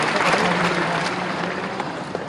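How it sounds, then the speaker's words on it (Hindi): Audience applause at an award ceremony honouring meritorious students, a dense steady clapping from a large crowd that fades slightly toward the end. "और जोरदार ताली बजाकर भगवान दास सपनानी जी को बधाई देना।"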